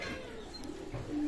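A Pakistani teddy pigeon gives a soft, low cooing call, faint and brief against a background hum.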